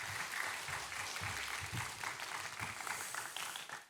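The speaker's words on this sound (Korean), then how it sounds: "목사님 나오실 때 큰 박수로 맞아주시기 바랍니다" A church congregation clapping to welcome the pastor to the pulpit during a Sunday worship service, a full sustained round of applause from many hands that holds steady and then tapers slightly at the end.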